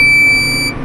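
Hay baler's cab alarm giving one short high-pitched electronic beep to signal the bale door has shut, loud and close over low machine rumble.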